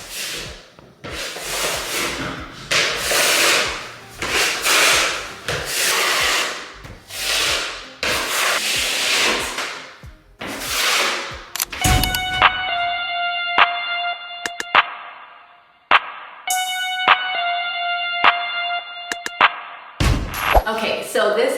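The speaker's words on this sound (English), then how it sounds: "So for 4 swipes of Lisbon, I use 2 scoops of joint compound." Lisbon-coloured Roman clay is mixed with scoops of joint compound, giving a series of close, rhythmic scraping and stirring strokes, followed by lighter tool clinks and tonal knocks against a container.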